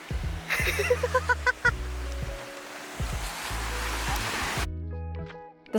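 Ocean surf at Makena beach on Maui, Hawaii, with gentle waves. It is a steady, moderately loud rush of breaking water that runs almost the whole time, and low tonal sounds hum underneath before the noise cuts off near the end.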